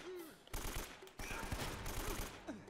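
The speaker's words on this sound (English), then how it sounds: "Be a little bit more liberal with my bullets on the AK." Bursts of AK rifle fire in Uncharted: Drake's Fortune, the first short burst followed by a longer stretch of rapid shots, fairly quiet overall. Other game sounds run beneath the shooting.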